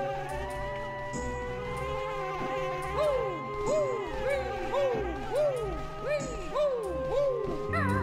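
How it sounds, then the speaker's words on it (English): A swarm of bees buzzes in the platform game Banjo-Kazooie, pitched zipping swoops that repeat rhythmically over a steady game music backdrop, with a player talking over it. "Not the bees"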